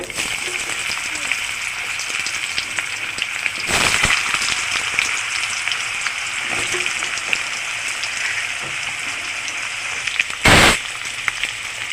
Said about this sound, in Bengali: ফোড়নটা ভাজা হয়ে গেছে, দিয়ে দেবো কাটা আলু